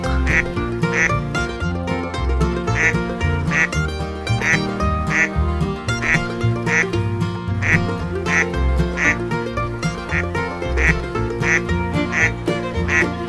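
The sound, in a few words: duck quacking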